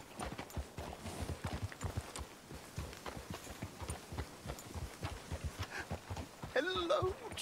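Horse hooves clip-clop in a steady walking rhythm close by, continuing throughout, with a brief whistling tone near the end.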